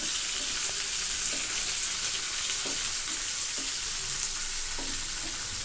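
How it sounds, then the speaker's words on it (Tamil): Onion and curry leaves frying steadily in hot oil for dal tadka, a dense, continuous close sizzle with a few soft scrapes of stirring scattered through it. "இதை சேர்த்துட்டு இன்னும் 1 மினிட் நல்லா ஃப்ரை பண்ணி எடுத்துக்கணும்"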